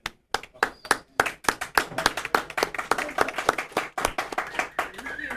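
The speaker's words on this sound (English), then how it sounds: "Let's give a warm welcome and a round of applause for Miss Faith Lucero." Round of applause from an audience welcoming a guest onto a talk show, with sharp separate claps close by that start sparse and then thicken into steady clapping.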